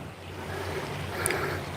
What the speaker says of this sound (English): The wind is just almost coming straight at us